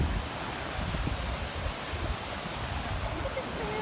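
Lake effect wind blows steadily at the Chicago lakeshore, a loud broadband buffeting roar across the microphone, with faint voices underneath.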